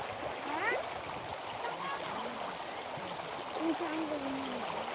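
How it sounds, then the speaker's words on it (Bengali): Stream water runs among rocks in a steady broadband rush, with voices talking over it through most of the stretch. "কি সুন্দর জল এত সুন্দর জল লাগছে"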